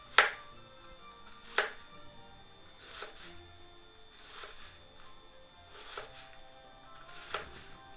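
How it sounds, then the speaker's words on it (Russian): A knife slices cabbage into thin strips in a few spaced, sharp cuts against a board, with quiet gaps between strokes. "Капусту нарежем обычной тоненькой соломкой."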